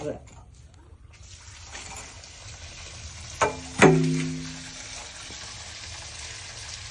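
Running water pours steadily into a motor-driven drinking-water purifier filter, a constant hiss broken by one sharp clunk partway through, with faint muffled voices underneath.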